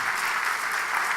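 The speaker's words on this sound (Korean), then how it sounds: "다시 한번 뜨겁게 한번 박수로 격려하세요." A church congregation applauds during an evening worship service, a short burst of dense, continuous clapping heard up close and alone.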